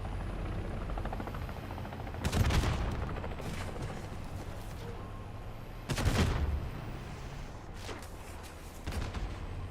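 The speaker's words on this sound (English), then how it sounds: "That helicopter just flew over." A real helicopter passes low overhead, its steady rotor roar running through the whole stretch under loud bursts of video game gunfire from a zombie shooter.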